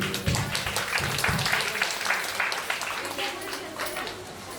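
Applause rises at an engagement ceremony, dense and steady for several seconds with voices mixed in throughout.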